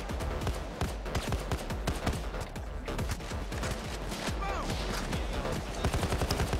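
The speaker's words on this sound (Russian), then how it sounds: "можно переключиться на полностью автоматический огонь и устроить что-то типа такого вот" Fully automatic rifle fire in the shooter game Payday 2, with rapid, sharp, loud bursts of shots in a dense, near-continuous fusillade.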